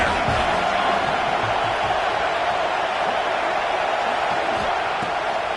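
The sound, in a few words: football stadium crowd cheering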